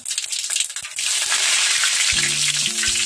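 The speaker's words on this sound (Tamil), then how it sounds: "இப்ப கடுகு போட்டுக்கலாம். கருவேப்பிலை போட்டுக்கலாம்." Mustard seeds and curry leaves hit hot oil for a ginger pickle, giving a loud, steady crackling sizzle that rises after a second, with a few faint clinks near the end.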